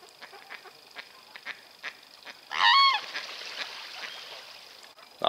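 Ducks and geese honk and quack beside a watercress walk in Alresford, Hampshire, with scattered single calls building into a loud burst of several birds calling together, then trailing off to sparse calls.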